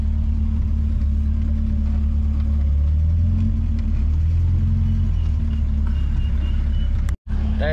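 Cars stand idling and creep forward in a small traffic jam at a gathering of retro vehicle enthusiasts, a continuous low engine rumble close by with occasional revving, and a brief dropout near the end.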